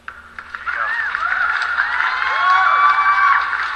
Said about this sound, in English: Hey, now we got to do a clapping, cheering, clapping.